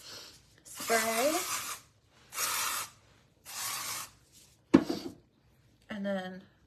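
A spray bottle of hair product mists onto sectioned hair in four short hissing bursts with brief gaps, close and clear, with a quick clatter near the end.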